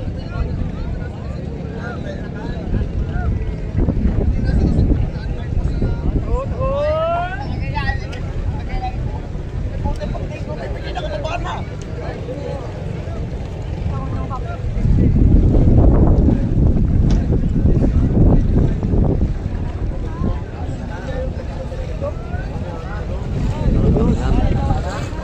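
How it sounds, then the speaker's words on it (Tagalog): Strong wind buffets the microphone in loud, gusty rumbles outdoors at a bankarera boat race as rain approaches, with surges of heavier blasts and voices faintly heard underneath. "Lakas na po ang hangin."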